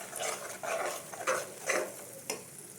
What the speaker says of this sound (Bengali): এই মশলাগুলো দিয়ে কষিয়ে নেব